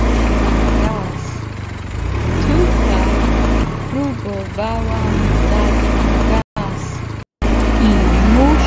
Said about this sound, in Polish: Tutaj próbowałam dać gaz.